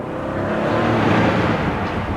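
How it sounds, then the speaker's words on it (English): A deep, throaty Aston Martin Vantage exhaust roars continuously at close range in an underpass, rumbling and swelling slightly with a reverberant, enclosed quality. "The exhaust is a little bit throatier."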